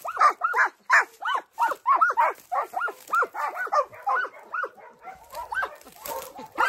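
Dogs barking in a rapid, excited series of loud barks close by, with short yips between them and brief voices now and then.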